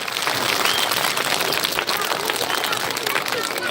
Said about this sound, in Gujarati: એમના માટે ફરીથી એકવાર જોરદાર તાળી થઈ જાય